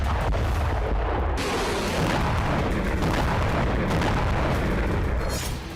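Continuous heavy rumbling of distant explosions and artillery-like booms in Russia, dense and sustained with no voices, loud throughout.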